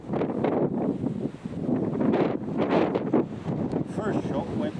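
Strong gusting wind buffets the microphone outdoors at a rifle range during long-range match testing with an Anschutz 1761, a continuous loud roar that swells and eases, with faint voices underneath.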